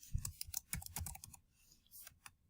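Typing on a computer keyboard while filling in a Padlet post: a close, quick burst of clattering keystrokes, then a short pause and a few more taps.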